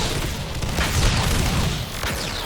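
Enemy gunfire in the game Warframe rattles in a dense, loud barrage of overlapping shots and booms, filling the whole brief stretch without pause.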